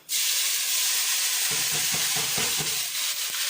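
Chopped vegetables tumble into a hot pan of chicken and potatoes, setting off a loud, steady sizzle with scraping from a wooden spoon as the frying continues, no voices.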